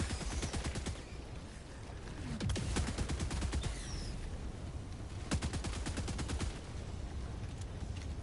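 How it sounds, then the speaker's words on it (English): Gas strike barrage in the video game Helldivers 2, rapid repeated firing bursts in two clustered volleys over a constant low roar, fairly distant and moderately loud. "Firing gas strike."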